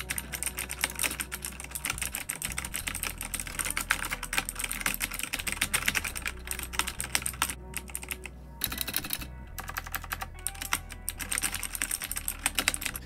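A MAGEGEE 60% mechanical gaming keyboard is typed on close up in a steady, fast stream of crisp clacky keystrokes with a few brief pauses and no talking.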